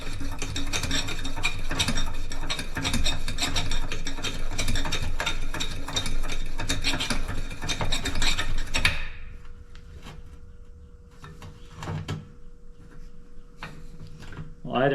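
Repeated mechanical clicking and squeaking strokes come from a hand pump forcing pressure into a 1943 Coleman 220 lantern, loud and rhythmic up close before stopping abruptly, leaving quiet room tone with occasional small knocks.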